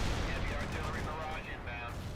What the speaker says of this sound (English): General artillery barrage, level 2.